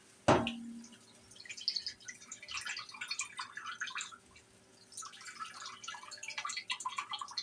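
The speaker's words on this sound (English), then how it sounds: "Sorry guys, I'm draining this hamburger or this grease real quick." Hamburger grease draining out of a pan, opening with a sharp clank of metal followed by a thin, uneven trickle and dribble of liquid, near and quiet.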